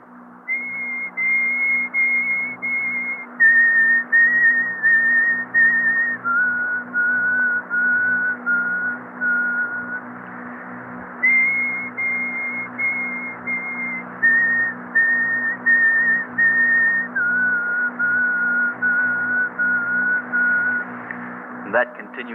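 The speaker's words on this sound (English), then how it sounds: "this whistle is the summoning whistle of the spirit" A sustained high ritual spirit-summoning whistle repeats in long held notes that step down in pitch, cycling twice over a steady low hum.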